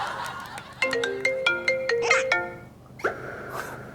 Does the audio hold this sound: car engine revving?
no